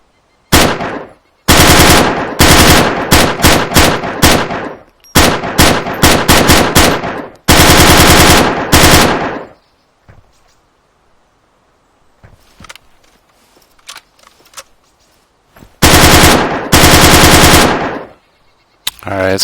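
Automatic gunfire from a weapon in the Arma 3 IFA3WarMod game, in several long loud bursts separated by pauses, with a quieter stretch of low background noise in the middle before a final burst.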